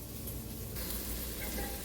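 Meat sizzling in a cooking pot, a steady, dense hiss that stays constant throughout with no pauses.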